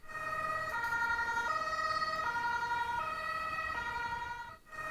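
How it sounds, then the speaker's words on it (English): A wailing emergency siren from an ambulance and police cars alternates between two pitches in a steady repeating cycle, loud and continuous, briefly cut off near the end. "Suddenly, you hear the sirens of an ambulance and police cars."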